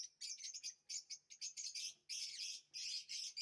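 Pet cockatiels and lovebirds chirp in quick, bright bursts of shrill tweets, close by and fairly loud, with short gaps between calls.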